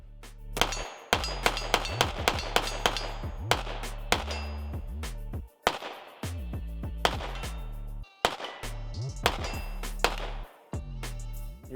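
Pistol shots from an Archon Type B firing 124 grain Blazer ammunition, a series of sharp, loud cracks in quick strings with short pauses, close by at a range.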